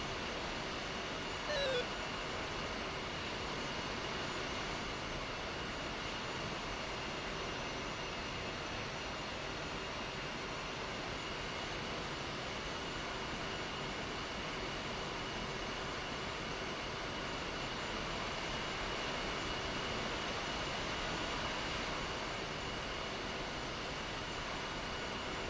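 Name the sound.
jet airliners, likely A310s, taxiing for takeoff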